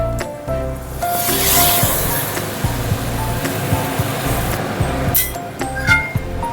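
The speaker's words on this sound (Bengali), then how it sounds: "এই গরম জলটা এবার এর মধ্যে দেব" Hot water hits frying spiced masala for a hilsa fish curry with a loud burst of hissing sizzle that slowly settles into bubbling crackle, with a few clinks of a utensil against the pan, close up.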